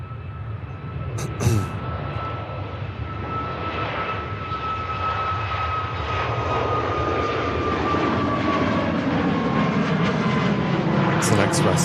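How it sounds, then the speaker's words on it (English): A passenger jet approaches and lands at Manchester Airport, its engine roar building steadily from a moderate distance to a loud, sustained rumble. A short thump sounds early on. "Ryanair from Lisbon on the approach, and the ITA just arriving in behind that."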